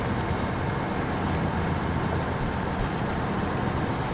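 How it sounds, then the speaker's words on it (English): A vehicle engine in a tire-testing driving video game runs steadily at a constant hum, moderately loud and alone with no talking. "This engine sounds good for sure."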